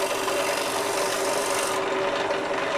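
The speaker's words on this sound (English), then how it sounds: "I'm getting slightly finer shavings than I did with the grinder edge." Shear scraper with a diamond-burnished edge shaving wood, a continuous close rasping scrape that cuts off sharply partway through.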